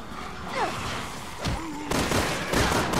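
Gunfire and impacts in the Resident Evil 6 video game, several loud bursts and thuds spread unevenly over a few seconds amid busy game noise.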